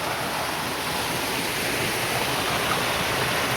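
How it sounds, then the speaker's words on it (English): Water rushes down Pelverata Falls in Tasmania, a steady, dense roar of falling water that stays close and even throughout with no voices. "So the water is coming down here like totally."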